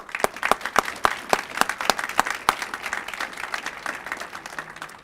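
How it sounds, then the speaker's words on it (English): An audience at a Farmington Hills employee recognition awards event claps in a sparse, uneven round of individual sharp hand claps that gradually thins out and softens. "Round of applause."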